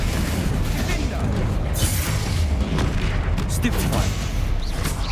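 Spell blasts boom and crackle continuously in the Hogwarts Legacy video game, a loud dense barrage of impacts layered with game effects and shouted spell incantations.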